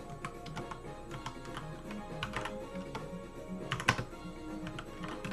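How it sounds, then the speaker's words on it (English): Rapid, irregular keystrokes on a computer keyboard, typed while setting up a Kali Linux virtual machine, with clicky taps close by and no talk. "so first we're going to type in"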